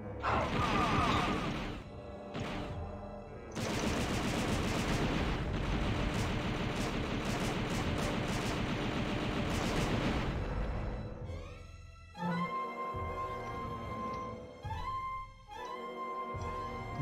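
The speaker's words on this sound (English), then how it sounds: "that's the pulse, that's the machine gun" Machine gun fire in Star Wars: Shadows of the Empire, a long, loud unbroken stream of rapid shots lasting several seconds, followed by shorter mechanical bursts and tones from the game.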